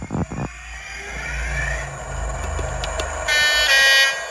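A DCC sound decoder in a Hornby Flying Banana model railcar, a dummy power car standing still, plays a low diesel engine rumble, followed by a bright two-tone horn near the end.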